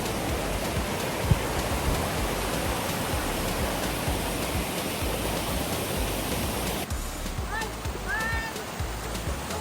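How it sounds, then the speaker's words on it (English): Pinsal Falls, a waterfall in San Quintin, Abra, Philippines, roars as a loud continuous broadband rush close by, with faint chirping or a voice appearing near the end. "we are almost at the edge of the waterfall"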